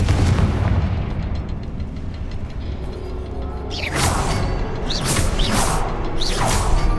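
Confringo blasting spell explosions in Hogwarts Legacy: a dense rumbling bed of game combat, then several sharp whooshing bursts that flare loudly one after another near the end.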